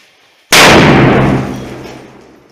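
A single FP3 White firecracker bursts inside a concrete bunker with a sudden, very loud bang, followed by a long booming echo that slowly fades.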